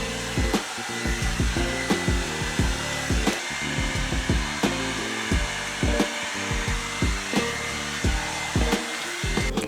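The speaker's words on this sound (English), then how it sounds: "Now I'm going to go in with the Revlon one-step blow dryer." A Revlon one-step blow dryer drying hair, a steady loud whirring hum close by with regular rhythmic brushing strokes pulsing through it, no voices.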